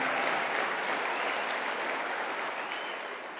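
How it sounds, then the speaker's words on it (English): A large conference audience at AmFest breaks into loud, dense applause after a political speech, forming a continuous roar of clapping that stays full throughout and eases slightly toward the end. "I'll take some applause on that."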